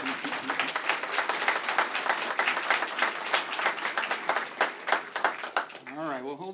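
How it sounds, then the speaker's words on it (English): A police awards ceremony audience claps in a steady, close round of applause lasting several seconds, with a voice speaking briefly at the very end as it fades. "now let's give her a round of applause"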